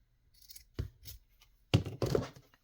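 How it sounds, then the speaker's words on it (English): Scissors cut through a junk journal cover in a few short, crisp snips close by, separated by brief quiet pauses. "I'm just going to cut this off."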